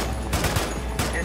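World War II-era gunfire from Arma 3 Spearhead 1944: scattered rifle cracks and short bursts at middling distance, with a pause before another shot near the end, over a steady background rumble.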